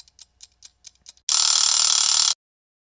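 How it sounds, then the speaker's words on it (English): Chicky kitchen timer for baking biscuits, first a series of quick soft ticks, then a loud continuous bright ringing burst of about a second before cutting off to silence. "Give me a tap when you hear Chicky Timer."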